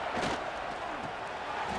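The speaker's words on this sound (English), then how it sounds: "Guns up, and so is the noise. The crowd electric trying to help Tech on this third down." A stadium crowd roars continuously in EA Sports College Football 26 during a Texas Tech third down, a dense, loud, sustained wash of cheering with commentary talk over it.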